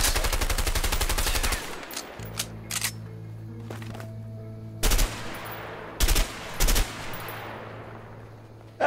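M16 assault rifle firing in the A Way Out video game: a long sustained automatic burst, then several short separate bursts, loud and close, with a low ambient drone underneath.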